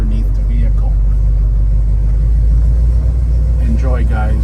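A 1967 Chevrolet Chevelle with a 396 V8 rumbling low and heavy while driving, a constant loud drone close by, with a voice briefly heard near the end.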